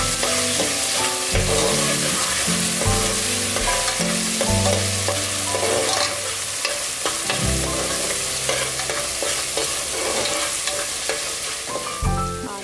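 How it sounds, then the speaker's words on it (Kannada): Ground coriander and green chili paste fry in hot oil while being stirred for a vegetable pulao, giving a steady close sizzle with repeated scraping strokes of the stirring spoon throughout. "ಇದನ್ನು ಆಯಿಲಲ್ಲಿ ಸ್ವಲ್ಪ ಫ್ರೈ ಮಾಡ್ಕೋಬೇಕು"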